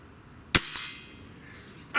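Magnum break-barrel air rifle fired at a shotgun shell target outdoors: one sharp, loud crack followed a moment later by a fainter impact, then another sharp crack at the end, with no talking.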